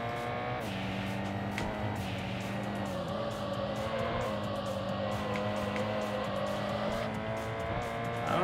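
Tires squeal over a steady high-revving engine drone from a car in the Import Tune racing game, held continuously and fairly loud throughout, with no talk.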